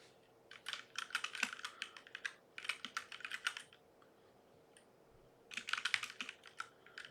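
Bursts of rapid typing on a computer keyboard come in three clusters separated by quiet pauses, close and clear, with no talking.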